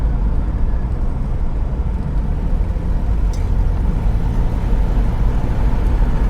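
A car driving on its newly installed engine, with a rusty fuel system, the gearbox shifting through gears: a loud, steady engine and road rumble heard from inside, continuous with no talk.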